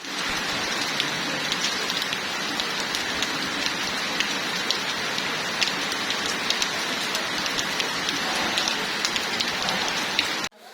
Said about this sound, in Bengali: বৃষ্টি রিমঝিম রিমঝিম শব্দ খুবই ভালো লাগছে